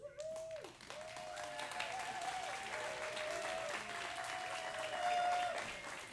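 Audience applause for the playwrights at a summer playwriting workshop's staged readings, a steady, dense clapping that holds evenly for about six seconds, with a sustained tone running underneath.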